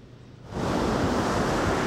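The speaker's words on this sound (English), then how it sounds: "The one thing that has been consistent all day are the huge waves right now stirring up the ocean." Large ocean waves churned up by Hurricane Earl off the coast of Ocean City, a loud steady roar of surf that starts abruptly and keeps going, with some wind noise mixed in.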